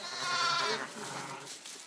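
Lambs in a sheep barn during lambing, with about 800 ewes, give a loud, close, wavering bleat followed by softer bleats and barn noise.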